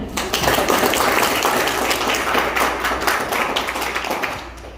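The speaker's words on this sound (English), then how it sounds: "marilah kita beri applause yang meriah" Lively applause from an audience at a junior high school English storytelling competition, loud and dense at first, then gradually thinning over a few seconds.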